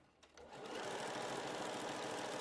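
A sewing machine stitches down the fabric of a skirt, starting after a few faint clicks and then running in a steady, fast, continuous whir close by, with no talking.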